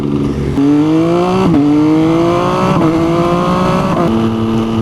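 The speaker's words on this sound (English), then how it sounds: "this particular bike has an aftermarket exhaust with removable baffles, and they've been removed today, and it's incredibly loud" A 2018 MV Agusta Brutale Dragster 800 RR engine revs loudly through rising gear shifts, its raw aftermarket exhaust with baffles removed roaring up in pitch with brief drops between gears.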